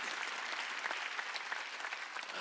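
Church congregation clapping during a Wednesday worship service, a dense, steady patter of many hands, moderately loud and continuous with no voices on top.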